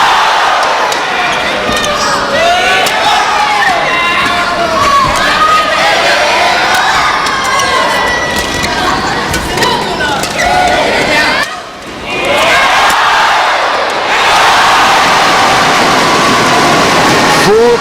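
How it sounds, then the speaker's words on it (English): Full crowd roaring and cheering inside the Badminton Stadium in Cheras, Kuala Lumpur, during an Axiata Cup 2012 badminton match, a loud continuous wash of voices with rising swells and a brief dip midway. "Full crowd support is what you have here inside the Badminton Stadium, Kuala Lumpur, Cheras."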